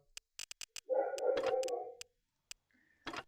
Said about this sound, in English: Oh, dogs. We love dogs. We love our puppies here, but they're very noisy.